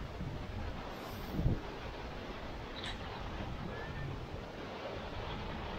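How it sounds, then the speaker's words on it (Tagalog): Strong wind roars across the microphone over a constant wash of ocean waves on Boracay, a dense, steady rumble throughout. "Lakas ng hangin tsaka ng alon dito."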